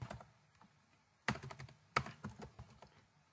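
Keys clatter on a computer keyboard during coding work, soft scattered taps followed by two louder bursts of quick typing, close and unaccompanied by speech.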